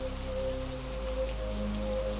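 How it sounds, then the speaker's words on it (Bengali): Heavy rain pouring on a stormy night in a Bengali horror cartoon: a steady dense hiss of downpour over a low, sustained musical drone, with no voices. "আরো জোরে বৃষ্টি এলো,"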